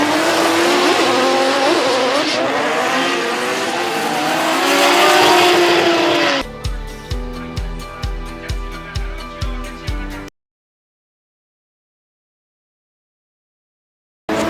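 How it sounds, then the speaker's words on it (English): Formula Drift cars, including a Toyota GR Supra, drift at a Japan round: loud engine roar and tire squeal with a rising pitch, then a rapid series of sharp rhythmic engine pulses before the sound cuts to silence. "Tanaka super close, but not so much angle, and Tanaka going a little too wide at the touch and go"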